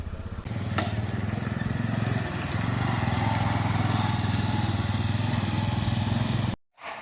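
A motorcycle engine drones steadily up close, rising slightly as it's ridden, then cuts off abruptly near the end.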